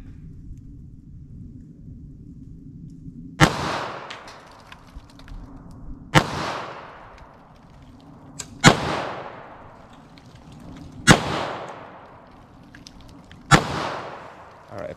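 Five sharp, loud revolver shots from a Taurus 605 with a 2-inch barrel, fired one at a time at a steady pace roughly two to three seconds apart, each with a brief ringing decay over a low background hum.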